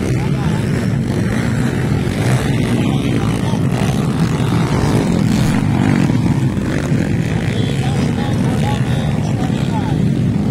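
An underbone motorcycle engine revs hard, a loud, continuous roaring drone that holds steady for about ten seconds without pause.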